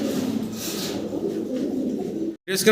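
Fancy pigeons coo in low, throaty murmurs close by, several overlapping calls continuing steadily, briefly broken by a short gap.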